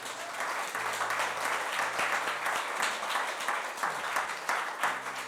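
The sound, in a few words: congregation applauding in church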